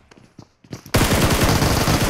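A sudden, loud burst of rapid automatic gunfire from an Uzi and M16 in PUBG Mobile cuts in after a few faint clicks and soft noises, then keeps firing steadily to the end.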